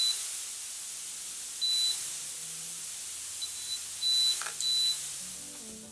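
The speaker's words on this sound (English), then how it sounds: "I'm also going to turn on the audio so you guys could hear the beat." High, thin electronic beeps from an automatic hair curler sound a few times in short bursts over a steady hiss, faint and irregularly spaced.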